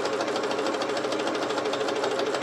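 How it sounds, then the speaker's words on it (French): Sewing machine stitching with elastic thread to smock fabric, a fast, even mechanical chatter running steadily and close throughout. "je vais pouvoir commencer à essayer de coudre en smoke"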